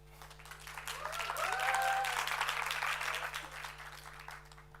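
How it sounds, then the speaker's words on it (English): An audience at a Three Minute Thesis competition final applauds, the clapping swelling to a steady peak and then gradually tapering off, with a faint voice briefly audible underneath. "Well-deserved applause for Paritosh."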